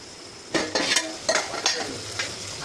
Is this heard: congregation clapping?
no